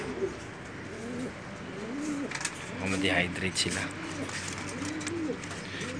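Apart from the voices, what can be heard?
pigeons cooing in a loft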